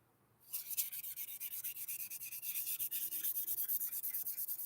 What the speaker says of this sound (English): Can't you see I'm wet sanding here